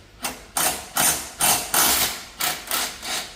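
Wrench ratcheting out two bolts on the transmission of a 2012 John Deere X304 all-wheel-steering lawn tractor, heard as seven sharp, evenly spaced metallic clicking bursts, close and fairly loud, with no talking.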